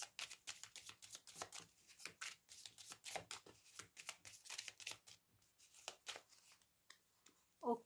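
Tarot cards being shuffled and drawn by hand, a quick run of close, crisp riffling flicks and slaps with short pauses between bursts, with no voice.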